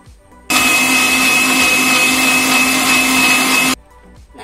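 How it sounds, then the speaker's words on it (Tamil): A blender grinds a mango shake with cardamom powder and three ice cubes in one loud, steady whirring burst of about three seconds, starting and stopping abruptly. "கடைசியா மூணு ஐஸ் கியூப்ஸ் நல்லா அரைச்சிடலாம்"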